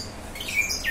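A brief, bright chirp from a small bird, a canary or Bourke's parakeet, close and moderately loud, over soft background noise.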